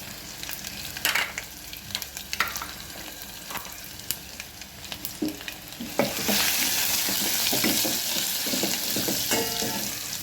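Cumin seeds frying in hot oil for a tomato dal tempering, crackling in scattered pops that swell into a dense, steady sizzle partway through, close and loud with no talking.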